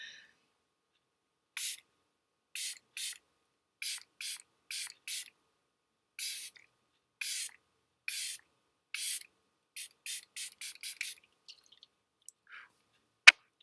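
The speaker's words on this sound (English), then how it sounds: "I always get so nervous when I spray myself." A series of short hissing bursts from a makeup setting spray misted onto the face, about fifteen separate pumps in an irregular rhythm, close and crisp against silence, quickening toward the end.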